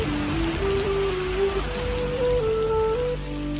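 Heavy rain falls on a mountain road, a steady dense hiss that fills the scene, with a faint whistling tone drifting over it.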